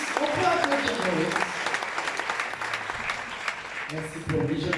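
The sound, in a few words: audience applauding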